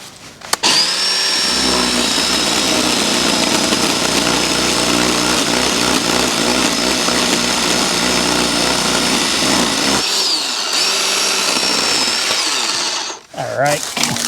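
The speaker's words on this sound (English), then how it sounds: "That's way too big for this little chainsaw." A small chainsaw cutting tree branches, its engine running at a loud steady high whine for about ten seconds, briefly easing, then revving again before cutting off near the end.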